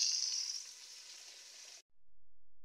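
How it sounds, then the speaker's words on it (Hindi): Chili powder, salt and dried coriander fry in a pan with a bright, steady sizzle up close. The sizzle cuts off abruptly into near silence partway through. "अब इस मसाले को अच्छी तरह भून लूँगी मैं।"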